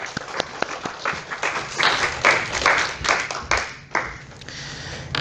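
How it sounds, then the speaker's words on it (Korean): Audience applause breaks out in a church thanksgiving service, a dense wash of many hands clapping at close range with a few sharper individual claps standing out, sustained throughout with no talk over it. "박수 한번 해주세요"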